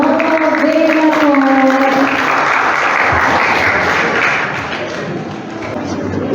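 Crowd applause for Romo Benato at a school gathering, a broad wash of clapping that swells after a voice fades out at the start and carries steadily to the end.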